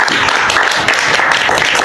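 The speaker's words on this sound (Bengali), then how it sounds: "সকলে একটু হাততালি দেবেন।" Audience applause at a Durga Puja pandal award presentation for best pandal. Dense, steady clapping from a crowd continues throughout, with faint voices underneath.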